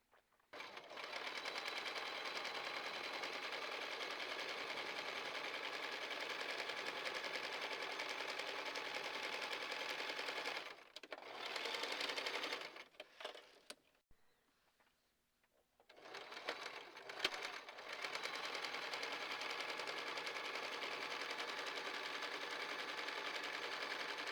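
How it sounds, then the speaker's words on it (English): A sewing machine runs a long steady stitch along a channel on a fabric wine bag, close and even, briefly stopping and restarting twice before continuing. "Then you will sew on the line that you have marked."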